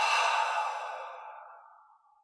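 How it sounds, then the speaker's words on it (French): A single deep breath during a guided meditation, drawn in and released as a long, soft, airy exhale that starts fairly loud and close and tapers away over about two seconds, with no talking. "Prends une grande inspire. On garde l'air un instant et on détend tout à l'expire."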